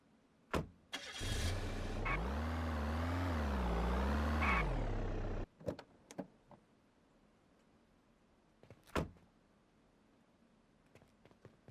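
A car engine in an Unreal Engine 5 vehicle demo roars steadily for a few seconds and then cuts off, leaving scattered clicks and thuds that sound like doors and footsteps.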